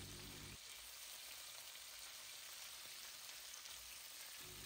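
Meat frying in a pan with onion and garlic added, a steady soft sizzle running throughout the stretch, faint and continuous with no talking.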